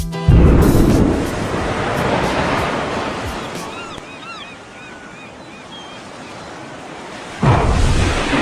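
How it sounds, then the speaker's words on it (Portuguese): An atomic bomb exploding in water: a heavy, deep rumbling roar of water surging and crashing, fading into a hiss with faint bird calls, then a sudden loud burst of churning water at the end. "Uma bomba atômica explodindo na água."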